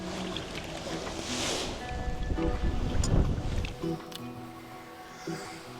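Wind gusting across a lake in Algonquin Park during a canoe trip, with a loud, broad rushing roar buffeting the microphone that surges in the middle and then eases, and no voices.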